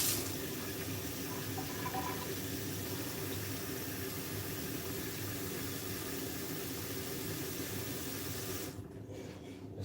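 Steady rushing stream of water pouring from a Dolphin water filter into a container, a loud continuous hiss that runs unbroken for about nine seconds before easing off at the end.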